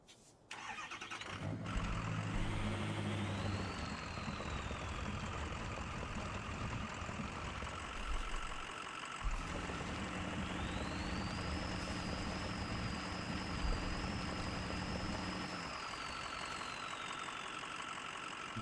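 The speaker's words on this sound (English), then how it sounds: "let's see what the Black Rock Ford can do in high gear" Black Rock Ford truck engine running in high gear in the Spintires off-road game, a loud steady drone that rises in pitch twice as it revs, with a brief dip midway and a continuous low rumble underneath.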